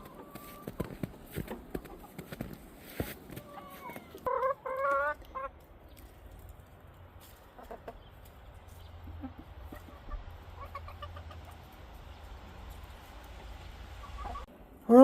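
Chickens in a farm coop cluck in scattered short bursts, some close and loud, with quieter rustling and shuffling between calls and a sudden loud knock at the end.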